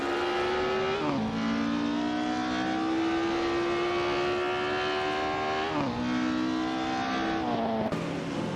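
Race cars in a 1950s Formula One racing video game drone steadily at high revs, with engine pitch sliding as the cars shift and slow. A car rushes past near the end.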